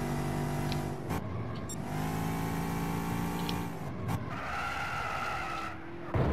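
A Mustang 302 races in Gran Turismo 6 on a Rome circuit, with a loud engine rising and falling through gear changes and repeated tire squeals and skids, with no talk over it.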